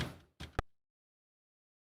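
An F0 sub kick serves as a sidechain trigger in drum and bass production, heard as short isolated low thumps with a soft tail, spaced apart by silence, close and dry with no talk.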